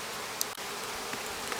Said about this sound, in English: Kenny says the bees like that better.